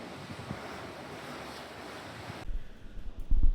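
Ocean surf and wind noise at sea somewhere southeast of Cuba, heard from the cruise ship MSC World America, a steady rushing wash that cuts out partway and then gives way to heavy microphone wind buffeting.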